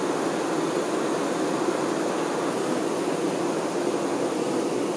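Honeybees guarding the beehive fan it with flapping wings, a steady, dense buzzing hum that holds at an even, moderate level without breaks.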